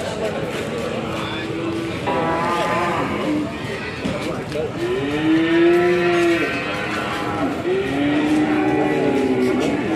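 Cattle at a livestock market in Panjer, newly arrived large young bulls, low drawn-out moos repeating from nearby amid a noisy crowd of people talking.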